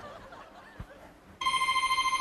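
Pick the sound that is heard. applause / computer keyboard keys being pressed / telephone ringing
telephone ringing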